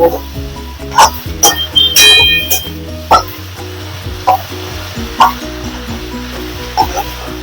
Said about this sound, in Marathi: आता आपला कांदा भाजून झालाय आता त्याच्यात आम्ही टोमॅटो टाकून घेते तर हे पण आपल्याला ह्याच्यात भाजून घ्यायचे